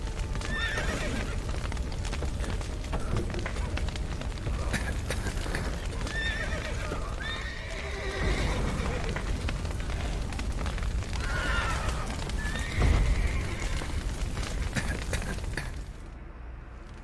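Horses in the video game The Witcher 3 neigh and whinny over a dense, continuous clatter of hooves, amid a busy, loud game soundscape.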